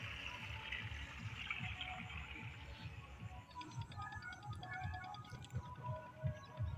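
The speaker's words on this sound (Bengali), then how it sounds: "জল ধানের জমিতে।" Water from a village irrigation pump runs into a paddy field with a soft continuous gush and patter. It stays fairly faint and steady, and a lighter trickling texture comes in partway through.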